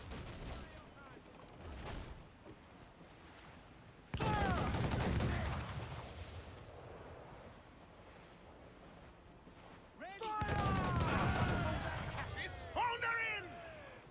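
Cannon fire booms across the water during a pirate naval battle in Assassin's Creed Black Flag, two loud barrages of blasts separated by quieter stretches, with crew voices shouting over the action.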